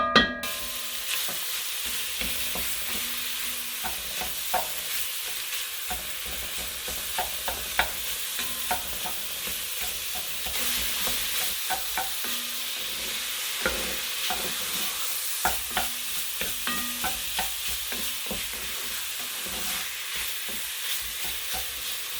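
Chopped onion and spicy sausage cook over medium heat in a Dutch oven, a steady close sizzle with frequent scraping stirs throughout.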